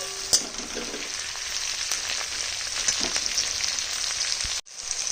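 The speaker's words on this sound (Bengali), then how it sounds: "পেঁয়াজ রসুন কাজু গরম মশলা ভাজা চলছে।" Onion, garlic, cashew pieces and garam masala fry in hot oil with a steady, close sizzle and crackle that runs unbroken until a brief drop near the end.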